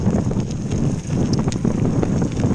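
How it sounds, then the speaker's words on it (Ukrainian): Steady sea wind on the Norwegian coast buffets the microphone with a low, rough rumble, continuous and fairly loud, with no voices. "Вітер, ну, вітер тут повинен бути, бо це ж море, океан."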